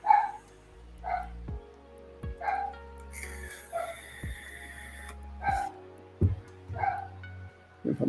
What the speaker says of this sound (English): it's got my dogs barking